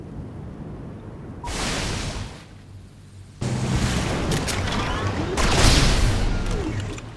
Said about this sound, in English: Commencing attack with naval fighters.